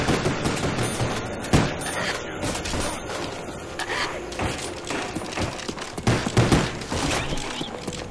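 Sustained gunfire from Call of Duty zombies on the Shangri-La map, a dense rattling barrage with heavy thuds and bursts running throughout, loud and continuous with occasional sharper blasts.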